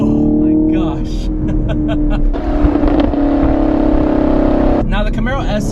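A sixth-generation Chevrolet Camaro SS V8 revs loudly and close with a deep, droning engine note. The tone rises and falls through the middle, and a voice talks over it at the start and end.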